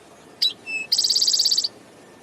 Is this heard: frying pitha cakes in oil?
no